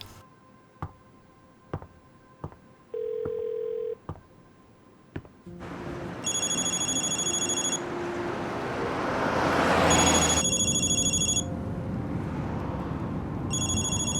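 A phone rings in repeated electronic bursts over a steady wash of road traffic, with a few clicks and a short beep beforehand.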